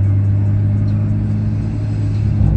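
BMW M2 with a manual gearbox, its engine running loud and close in a deep, steady low rumble with slight revving swells, no talk.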